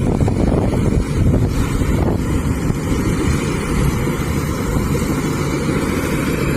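A home-built Thai combine harvester drives through a rice paddy, giving a loud, constant low engine rumble and mechanical roar, with wind buffeting the microphone throughout.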